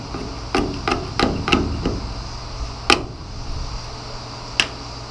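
A rusted body panel on a Datsun 280Z caked with Bondo being hit, a handful of sharp, separate knocks spaced irregularly, with two louder strikes standing out over a quiet background hum.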